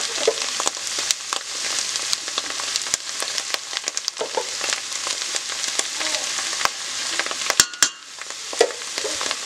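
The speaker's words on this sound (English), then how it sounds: "we're going to give this a good mix." Flour being stirred into a mushroom soup base frying in a pot, a loud close crackling sizzle broken by frequent scraping and clicking strokes of the spoon, with no voices.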